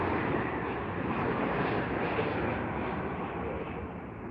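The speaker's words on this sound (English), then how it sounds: "Here's Virgin Atlantic in a Dreamliner, my friends." A Virgin Atlantic Dreamliner airliner at Heathrow gives off a steady, broad engine roar that holds evenly throughout with no voices.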